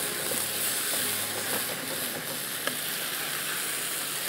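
Ginger chicken with cream frying in a pan, a steady hissing sizzle that holds at an even level throughout, close and with no talking.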